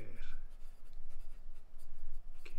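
Kaweco Perkeo fountain pen with a medium nib scratching across Oxford Optik paper, quiet close strokes in a steady pulsing rhythm, with a little speech faintly mixed in.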